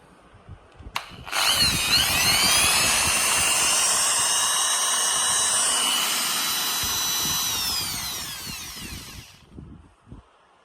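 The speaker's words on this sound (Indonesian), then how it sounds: "Jadi jika bor dinyalakan" An electric drill spins up after a couple of clicks and runs at steady high speed for about eight seconds, then winds down, loud and close, alone in a room with a three-phase power distribution panel.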